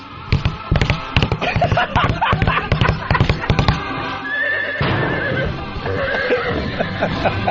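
A radio host vocally imitates a whinnying horse together with rapid clip-clop hoof sounds, loud and close, the clattering rhythm giving way to a drawn-out neigh.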